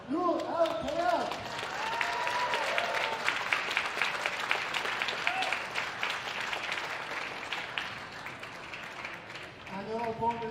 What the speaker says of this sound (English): Ladies and gentlemen, big hand of applause for Nour Tayeb.